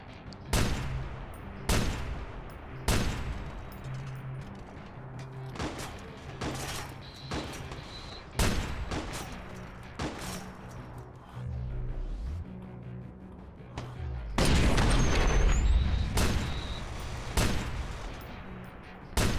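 Sniper gunfire in the video game Watch Dogs Bad Blood: sharp rifle shots crack out repeatedly at irregular intervals over a busy game soundscape, with a dense louder burst of fire near the end.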